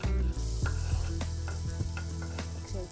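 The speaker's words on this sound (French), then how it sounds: "Chauffez un peu d'huile d'olive dans une casserole." Shallot frying in olive oil in a saucepan, with a steady sizzle throughout, punctuated by a few sharp stirring clicks.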